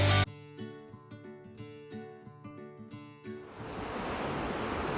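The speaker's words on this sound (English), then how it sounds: "listening to the waves" Ocean surf at dawn on a warm, humid morning, a steady broadband wash of waves that swells in and continues alone after a few seconds of music fade out.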